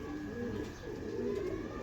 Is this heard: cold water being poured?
no